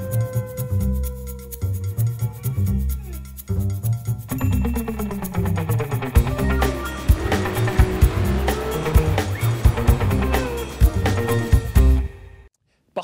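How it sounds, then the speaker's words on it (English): A Nissan GT-R sports car drives hard with revving engine, gear changes and tires squealing in repeated bursts, loud and close, with a voice talking over parts of it. "The Nissan GT-R is a car that snacks on 911s and has Audi R8 Pluses as the main course."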